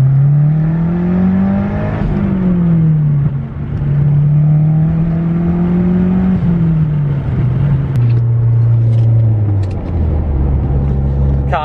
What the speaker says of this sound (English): Spool sounds way different.